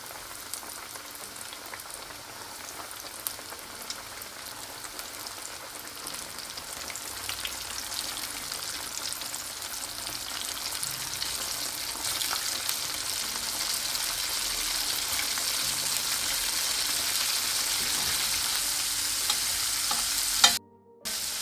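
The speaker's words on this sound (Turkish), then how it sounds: "Dışarıda kalanları yağ banyosu yaptırıyorum." Oyster mushrooms deep-frying in hot oil, a steady, dense crackling sizzle that slowly swells louder over about twenty seconds before cutting off abruptly, with no talk.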